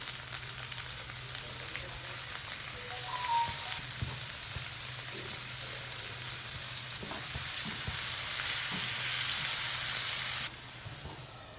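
Tomato chutney ingredients fry in a pan with a steady, close sizzle and occasional stirring scrapes, rising a little louder through the middle before easing off, with no voices.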